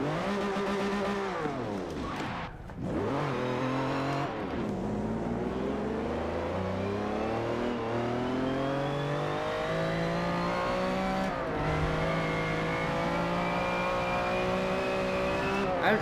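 A supercar's engine in the video game Forza Motorsport 7 revs hard and climbs through the gears, pitch rising and dropping at each shift, loud and up close, with a brief tire squeal.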